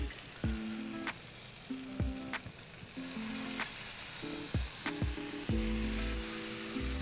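Shrimp hit a hot pan and fry with a loud, crackling sizzle, punctuated by several sharp metallic clanks from tongs, the hiss swelling stronger in the second half; nobody speaks.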